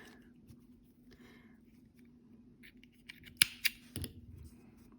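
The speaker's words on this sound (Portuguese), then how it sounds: "Deixa eu só cortar esse fio pra ficar mais nítido" A few crisp snips of scissors cutting crochet yarn while finishing an amigurumi doll, quiet and close, with soft handling noise before and between the cuts.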